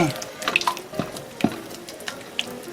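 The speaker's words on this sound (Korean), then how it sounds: "이거 표고 우린물입니다. 한 컵 넣어주세요." Shiitake mushroom broth being poured from a cup for a cabbage kimchi seasoning, with close liquid splashes and drips in short bursts and no steady stream.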